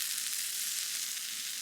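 Peri peri chicken sizzling steadily on an OZ PIG grill as it is basted with marinade, a close, even hiss of fat and juices that holds without a break.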